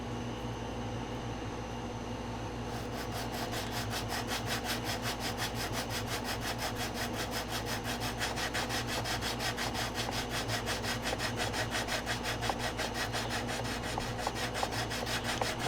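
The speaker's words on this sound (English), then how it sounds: "we can go ahead and start sanding. And I'm going to wet sand it" Wet sandpaper scrubs over CA glue seams on a plastic A-6E Intruder scale model, a close, continuous rhythmic rasp of quick back-and-forth strokes that keeps going without pause and with no talking.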